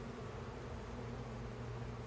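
Honey bees buzz in a steady, dense hum from an open hive being inspected in early May, a continuous close drone with no break and no voices.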